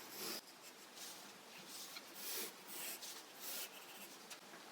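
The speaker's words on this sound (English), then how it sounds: "start off by drawing a triangle" Pencil or pen drawing a triangle on paper for a paper bird puppet craft, with quiet scratchy strokes in short repeated bursts, close and soft, no talking.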